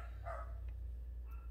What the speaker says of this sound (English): Dogs are going crazy, guys.